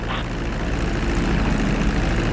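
A propeller airplane engine drones steadily and loudly as the plane comes in to land at the GTA 5 flight school. The hum stays close and unbroken, with no voices.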